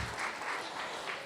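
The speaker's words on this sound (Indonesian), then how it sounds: "Tepuk tangan untuk kita semua." Applause from an audience at a university lecture hall event, steady, dense clapping filling the room for a brief moment with no talk over it.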